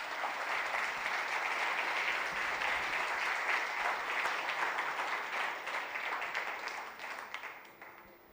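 A church congregation applauds during a sermon, broad steady clapping from many people that holds loud for several seconds and then fades away toward the end.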